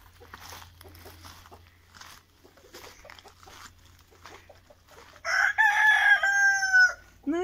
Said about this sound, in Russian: Вот такие у нас волшебные курочки.